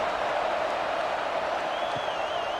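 Football stadium crowd at a college football game, waiting on a kickoff, as a steady, dense roar of many voices with scattered applause, loud and continuous throughout with no clear talk over it.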